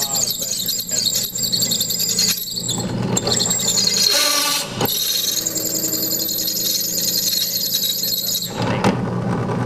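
DeWalt Pilot Point drill bit forced through a workpiece under heavy pressure, a loud, sustained squealing grind with strained motor whine that pauses briefly before resuming, with someone speaking over it.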